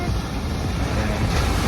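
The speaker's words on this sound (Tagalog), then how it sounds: "ang rinig mo lang is yung alon ng dagat" Steady roar of sea waves breaking on the shore at Siargao, continuous and fairly loud with wind buffeting the microphone, no distinct speech.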